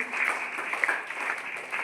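An audience at a Krishna Jayanthi festival applauds with dense, even clapping that holds steady throughout.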